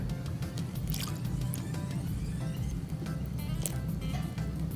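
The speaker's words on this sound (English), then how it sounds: "you're just going to give it a good stir" Pancake batter of Bisquick mix with eggs, lemon juice and milk being stirred in a bowl, giving continuous wet squishing and slapping strokes, close and steady, with no talking.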